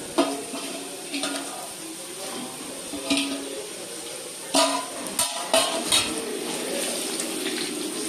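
Mustard seeds and dry red chillies crackle in hot oil as a tempering for cabbage pickle, a steady sizzle with sharp pops and clinks of a spoon, close by.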